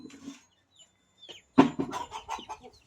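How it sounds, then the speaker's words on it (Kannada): A chicken is caught. A few soft clucks come first, then a sudden loud squawk and a flurry of agitated clucking close to the listener. "ಕೋಳಿ ಹಿಡ್ಕೊಬಿಟ್ಟು ಇವಾಗ."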